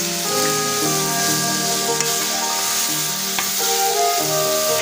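Meat and bell pepper sizzle steadily in a pan while being stir-fried for a macaroni pilaf, a continuous close, loud frying hiss with occasional clinks of stirring and no voices.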